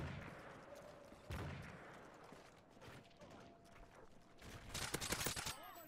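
Bursts of rapid gunfire crackle in quick volleys in the video game Call of Duty: Modern Warfare 3, with a sharp shot early and a louder flurry near the end, under faint background voices.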